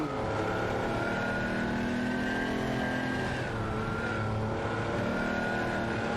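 Race cars, including a Porsche 959, roar together in an online racing game, a continuous loud engine drone with layered tones shifting in pitch as cars jostle and overtake.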